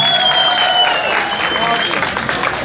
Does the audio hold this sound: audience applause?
yes